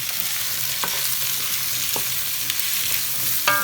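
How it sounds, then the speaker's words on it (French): Sliced chayote goes into a pan of browned spices and sizzles steadily, with a few scraping stirs and clinks over the constant frying hiss. "maintenant je vais y mettre les chouchous puisque ça a bien roussi là mes épices"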